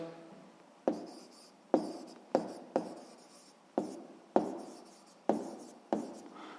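Pen strokes tap and scratch on paper in about eight separate bursts while an answer to a sixth-grade math exercise is written down, each stroke starting sharply and trailing off, close and quiet.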